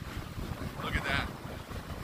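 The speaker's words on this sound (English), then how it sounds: "these are probably baby waves" Ocean waves and wind batter the New Jersey shore during Hurricane Dorian, with steady surf rush and wind buffeting the microphone in a continuous noisy wash, a voice faintly audible underneath.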